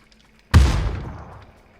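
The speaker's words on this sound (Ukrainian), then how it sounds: "Гранату туди прокидаю" A grenade explodes in the video game PUBG: one sudden loud close blast that booms out and fades over about a second and a half, heard alone with no talk.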